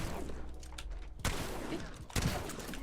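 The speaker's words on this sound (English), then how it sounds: "they got shot at from these guys over here" Gunfire in Apex Legends, a steady dense clatter of shots with two sharper bursts, heard at moderate distance under game noise.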